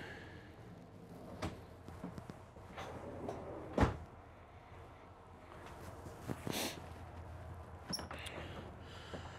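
A handful of wooden sliding and knocking sounds, one sharper thump in the middle, as drawers are pulled out and pushed back in a quiet Newmar Ventana 4037 motorhome.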